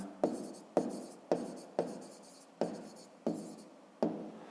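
Pen strokes on paper while writing out a fifth-grade maths answer by hand, seven crisp scratchy bursts in a steady rhythm, close and alone with no talking.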